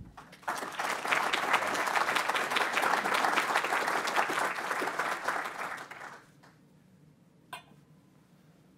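An audience welcomes Steve Walker, Director of DARPA, to the stage at a university leadership lecture with about six seconds of steady, full applause that fades out into a quiet room.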